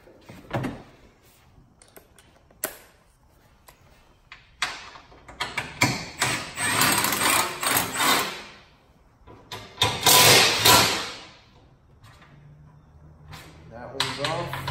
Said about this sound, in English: Now let's go ahead and take the three bolts off holding the rooftop.